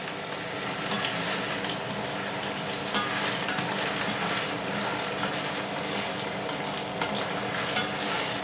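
Chorizo, chicken and bacon sizzle steadily in a pan with plenty of olive oil, a continuous close crackling fry broken by the scrape and shuffle of stirring.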